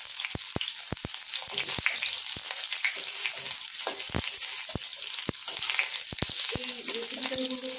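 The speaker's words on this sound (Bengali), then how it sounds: "এবার আমার এই কেটে রাখা বেগুনগুলো আমি এর মধ্যে দিয়ে দেবো।" Cut eggplant pieces fry in hot oil seasoned with black cumin, a steady close crackling sizzle with sharp pops and spatters throughout and occasional stirring, with no talking.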